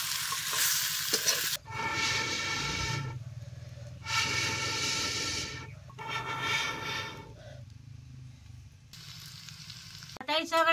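Potatoes fry in oil with chutney, turmeric and ground cumin-coriander in a pan over a wood-fired stove, giving steady sizzling and stirring scrapes in bursts with short quieter gaps, with no talking.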